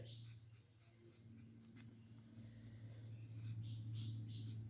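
A pen drawing an emoji on paper, producing soft repeated scratchy strokes in a loose rhythm, very faint and close over a low hum.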